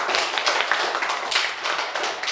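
Classroom of students clapping for a classmate who answered well, a brief burst of scattered hand claps, fairly close and steady, ending after about two seconds.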